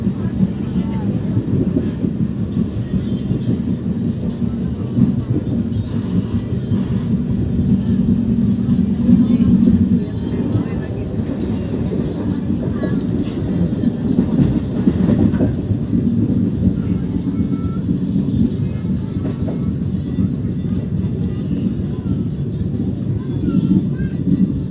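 A passenger train on the Jakarta–Merak line rolls toward Cikesang station with a steady, close rumble of wheels on rails, and voices talk over it throughout.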